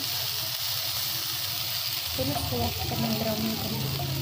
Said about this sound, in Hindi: मीडियम फ्लेम पे हम इसे कर रहे हैं सौते।